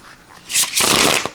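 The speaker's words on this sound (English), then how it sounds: "Ooh, these riffle shuffled really well." Stiff black-core tarot cards riffle shuffled, a loud close burst of rapid flicking that rises sharply, pauses briefly, then runs again and ends with a quick snap as the deck bridges together.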